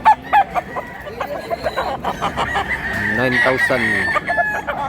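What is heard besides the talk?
roosters crowing and clucking at a chicken market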